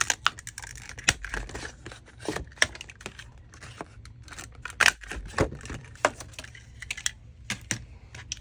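Scissors snip through Tim Holtz packaging paper, a quick irregular series of sharp crisp cuts and crinkles close by, with brief pauses between snips.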